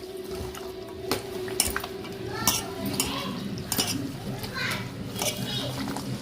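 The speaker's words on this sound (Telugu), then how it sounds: "ఒక సూండు ఉప్పు పుదనా కొత్తిమీరి ఇవన్నీ వేసుకుండి ఇలా కలిపేసుకోవాలి" Salt, mint and coriander being mixed into a chicken marinade for gongura chicken biryani in a home kitchen: irregular clinks and wet stirring scrapes against a bowl, moderately loud, over a steady background of voices and children.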